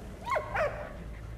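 A dog in a video game gives two short, faint whimpering yelps in quick succession over a low, steady background hum.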